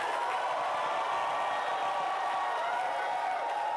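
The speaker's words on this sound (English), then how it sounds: "Clap your hands and shout with the voice of victory." Church congregation clapping their hands together, a dense, even wash of clapping held at a steady level throughout, with no voices standing out.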